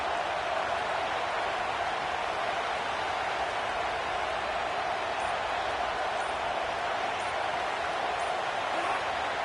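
A stadium crowd at a Florida at Auburn college football game roars in a steady, dense wash of noise that stays loud and unbroken throughout, with no distinct voices standing out.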